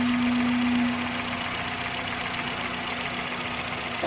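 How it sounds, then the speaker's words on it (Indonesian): Automatic Honda City with a VTEC engine idling steadily at about 800 RPM, a close, continuous low hum with a constant tone and no rise or fall in speed. "Untuk RPM ini idle-nya sekitar 800"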